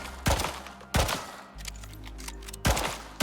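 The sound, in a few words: Chak pistol firing full round, Icarus video game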